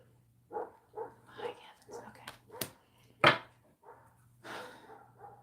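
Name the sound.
dog barking outside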